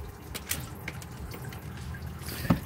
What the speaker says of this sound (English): Another thing that's going to drip and drain a lot is the filter housing.